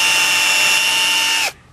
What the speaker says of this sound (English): And I'm going to drill me another one